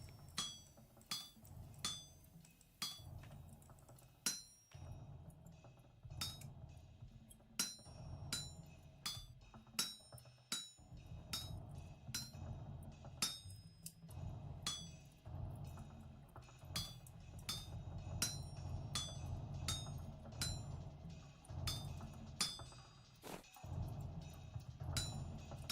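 Metal ingots hammered on an anvil in the Vintage Story video game, a long series of sharp ringing clinks at an uneven rhythm, some in quick bursts, over a low background hum, fairly faint overall.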